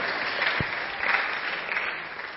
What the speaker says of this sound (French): Est-ce qu'on peut acclamer pour cette dame avec toutes ses initiatives?